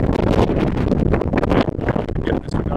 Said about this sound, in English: it's windy as hell out here